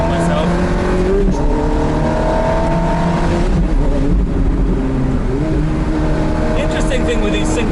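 Ferrari F430 with a single-clutch gearbox driven on a damp road, the engine note droning and rising through the gears while someone talks over it inside the car.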